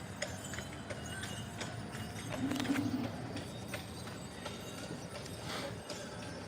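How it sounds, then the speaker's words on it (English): Two horses clip-clop at a walk through Disney's Fort Wilderness Campground at Christmas, the hoof beats steady but soft under a busy, noisy outdoor wash that swells briefly mid-clip. "There's 2 horses."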